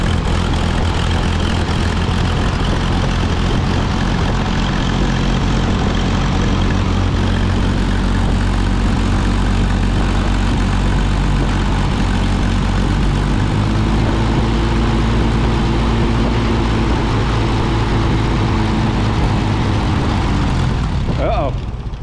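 An engine on an old vehicle left sitting in a barn for 23 years runs steadily near and loud, a rough idle with a strong low drone, dipping and faltering near the end as it nearly dies, with a voice speaking over it.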